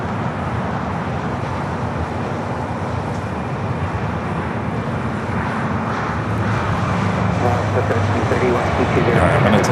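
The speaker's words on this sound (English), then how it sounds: "Air Premier, the Dreamliner, heading back to Seoul, now rolling down to 24 left." An Air Premia Boeing 787 Dreamliner taxiing toward runway 24 left at LAX, a steady broad engine rumble that swells slightly near the end, with someone talking over it.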